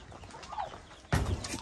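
Chickens cluck on a rural Dominican farm where turkeys and guinea fowl are also kept, soft scattered clucks followed by a sudden louder burst of squawking close by.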